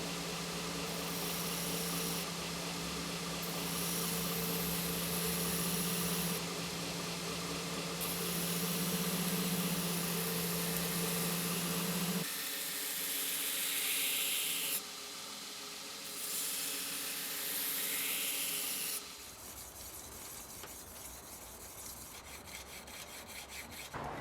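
Belt grinder running a 120 grit belt over a 10-inch contact wheel while a carving tool blade is hollow ground, a steady loud hissing rasp that shifts in tone as pressure and position change, with no talking.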